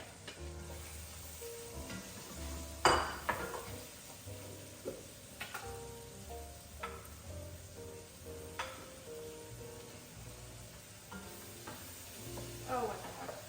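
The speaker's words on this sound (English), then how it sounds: "we are going to saute this until they're tender" Chopped leeks, celery and onions sauté in a pan with a steady soft sizzle, broken by occasional clacks and scrapes of a stirring utensil, close up and without speech.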